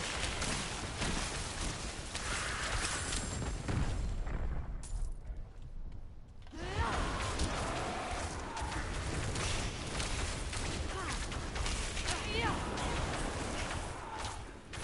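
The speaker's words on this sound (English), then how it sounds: "Those are the explosions you see." Sorcerer spell explosions in Diablo 4, a dense, continuous roar of blasts and crackling impacts that briefly cuts out to near silence before surging back at full loudness.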